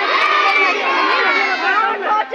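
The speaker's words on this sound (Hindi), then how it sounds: "ज्यादा भीड़ नारा लगाते हुए" A large crowd of villagers chanting together at a community feast held in a village on the day of the Ram Lalla consecration, voices dense and continuous throughout, loud and close, dipping briefly near the end.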